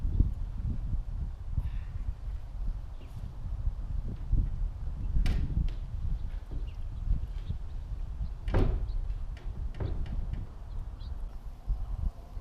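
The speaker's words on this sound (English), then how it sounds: "what we got is a door that closes top and bottom panels" A replacement roll-up door on a box van truck being converted into a tiny home slides and clunks shut, with a couple of sharp impacts around the middle over steady rumbling background noise.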